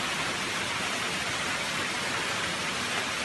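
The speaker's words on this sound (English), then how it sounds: "You can see rain is accompanied by hailstones." Rain mixed with hailstones falls in a dense, continuous hiss, loud and even throughout, with no voices.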